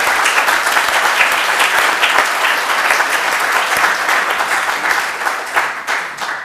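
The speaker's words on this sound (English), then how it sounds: "I would like you to clap hands and very warmly welcome David Malone" Sustained applause from a large conference audience welcoming the opening keynote speaker, a dense, even wash of clapping that holds steady for several seconds before thinning slightly at the end.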